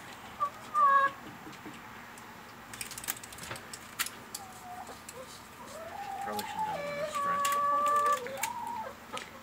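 Several birds, sounding like chickens, give soft clucks and brief calls at a moderate distance, with a faint continuous background hum.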